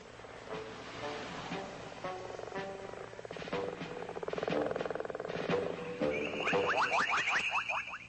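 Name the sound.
toads croaking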